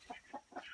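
Broody backyard hens in Hawaii give three soft, low clucks in quick succession, close but faint.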